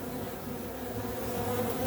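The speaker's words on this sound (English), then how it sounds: "Do you notice that the bees are there fighting" Honeybees fighting at a hive entrance during robbing, a dense continuous buzzing hum that sounds close and steady throughout.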